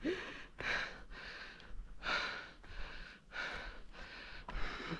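Heavy, rhythmic breathing from a person trekking uphill toward a hilltop temple, with about seven loud, close breaths in quick succession and no talk.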